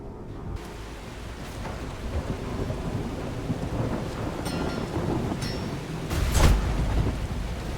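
Rain falls steadily with rolling thunder in the video game The Last Caretaker, a low rumble building throughout and a loud, close crack of thunder near the end.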